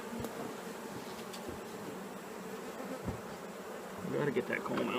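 Honey bees buzz around hive comb. A faint, steady drone of many insects runs the whole way through, and the buzzing swells slightly louder near the end, with no talk.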